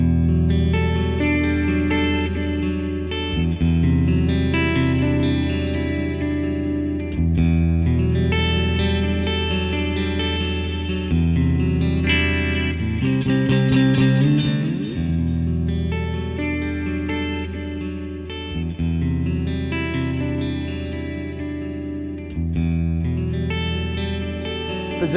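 A Taylor T5 Custom electric-acoustic guitar plays a looping riff through a distortion effect, with sustained, heavily overdriven chords repeating in a steady pattern for about twenty-five seconds, loud and alone with no talk.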